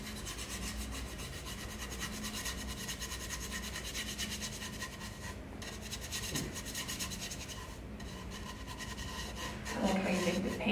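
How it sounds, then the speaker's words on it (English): Paintbrush scrubbing paint into a painting's background, a steady, continuous bristly rubbing and rasping that runs throughout at close range and grows a little louder near the end. "you want to kind of move the paint around, scrub it in"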